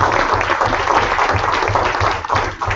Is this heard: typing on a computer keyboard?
no